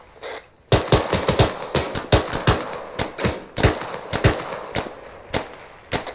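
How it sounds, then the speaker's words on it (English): Rapid bursts of gunfire crack out from the east during a team airsoft or milsim field operation, a dense run of loud, sharp shots after a brief quiet start, some clustered in quick volleys. "Are you getting gunshots from the east?"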